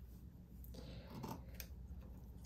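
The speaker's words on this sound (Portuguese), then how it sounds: "vou cortar aqui com a tesoura" Fabric being snipped with scissors while making a fabric jewelry holder, a few quiet crisp cuts close by at low level, with faint rustling of cloth.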